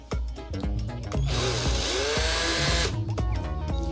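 A cordless screwdriver drives and tightens screws while tuning machines are fitted to an acoustic guitar, with a loud close whir that comes in short bursts around one longer sustained run.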